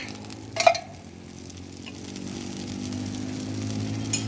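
Dosa batter fries in a little oil on a hot griddle with a continuous sizzling hiss that grows slightly louder, broken early by a sharp scrape or clatter, alongside a steady background hum.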